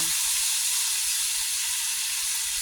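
Pork meat for dinuguan sizzles in a hot pan, a loud, even, continuous frying hiss close by.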